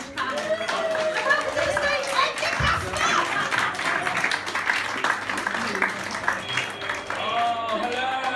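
Comedy club audience in Cambridge cheering loudly for a poet about to take the stage, a dense sustained roar of whoops, shouts and clapping filling the whole stretch.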